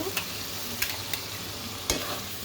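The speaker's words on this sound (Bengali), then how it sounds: "চিংড়ি মাছটাকে একটু ভালোভাবে কষিয়ে নেব" Shrimp fry in a pan with white and black mustard, green chili and onion paste, a steady sizzle broken by a few sharp scrapes as the pan is stirred, close and with no voices.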